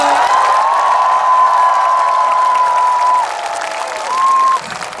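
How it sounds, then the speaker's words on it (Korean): A festival crowd at an outdoor trot concert in Chuncheon claps and cheers for an encore, the applause loud and close while a sustained high tone rings over it, then breaks off and returns briefly. "우리 지원이 앵콜을 바란다 하시는 분들만 박수 한 번 보내주세요"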